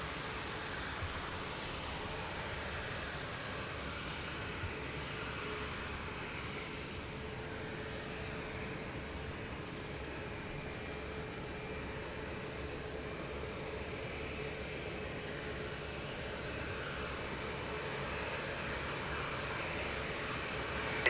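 Airliner jet engines roar steadily during takeoff at Lisbon Airport, a broad sustained rumble at a distance with no voices.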